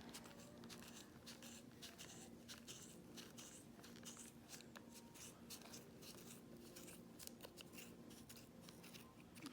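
Quiet, close snipping and crunching of scissors working through yarn, a steady series of small cuts with no talking.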